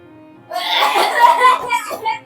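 A single rough cough bursts out at close range, followed by a short breathy tail, in a home setting.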